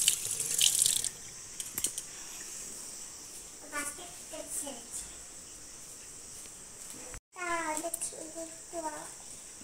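Bananas washed under a running kitchen tap, a steady close stream of water splashing in a sink with a brief pause, while an adult and someone talk over it.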